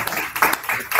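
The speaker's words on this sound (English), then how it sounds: "You want to clap for her now?" A brief burst of audience clapping at a wealth creation summit, a few loud close claps in quick uneven succession.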